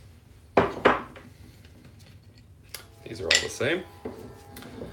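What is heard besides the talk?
metal brake discs clanking while handled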